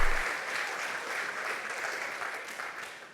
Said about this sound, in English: Let's welcome Peter onto the stage with a round of applause